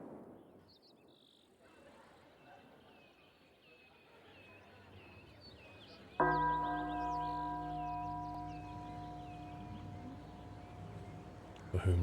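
A church bell tolls at a cemetery in Cities: Skylines, a sustained ringing chime that starts suddenly partway through and hangs over faint ambient insect and bird chirps.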